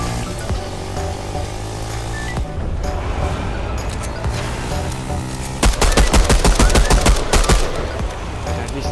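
Rapid bursts of gunfire in Fortnite, loud and close, with dense clusters of shots building toward the end over steady game music and ambient noise.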